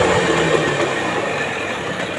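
A Suzuki 30 hp outboard motor runs steadily after being restarted, a continuous engine drone with a low rumble that holds at a constant, fairly loud level with no voices.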